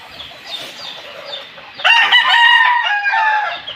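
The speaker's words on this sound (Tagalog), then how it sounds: "Nag-iitlog yung ating pumpkin hatch mga kabakard." A pumpkin hatch hen laying eggs gives soft intermittent clucks, then breaks into a loud, drawn-out rhythmic cackle close by, with no talking.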